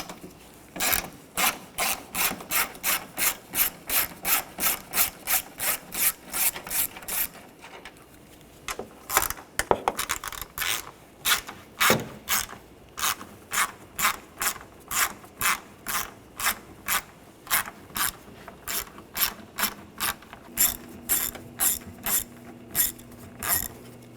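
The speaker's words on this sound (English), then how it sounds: "Now take these screws off, use a 8mm socket." A ratchet with an 8mm socket backs out screws on a 2013-2019 Ford Escape, fast rhythmic clicking bursts repeating close and clear, pausing briefly between screws, with no talk.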